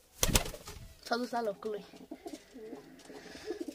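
Pigeon cooing close by, a soft run of throaty coos following a loud knock at the start, with a person speaking briefly over the calls.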